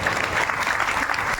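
An audience at a religious gathering claps hands in a dense, continuous burst of applause, loud and close, filling the whole moment without pause.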